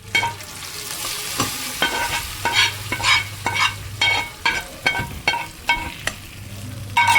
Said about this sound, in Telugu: పోపు అయితే రెడీ అయిపోయింది. ఇప్పుడు మనం పప్పులో వేసేసుకుందాం.